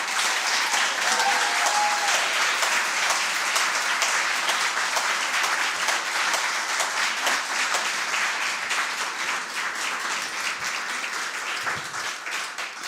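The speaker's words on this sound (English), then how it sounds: "It's a hearty round of applause." A conference audience gives a hearty round of applause. Dense, steady clapping stays loud and continuous throughout, easing only slightly toward the end.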